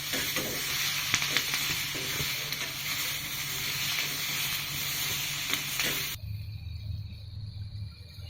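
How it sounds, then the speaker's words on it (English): Bell pepper fries in a pan with a steady, soft sizzle and hiss, followed by a quieter, duller stretch after the heat changes near the end. "We have to fry the bell pepper."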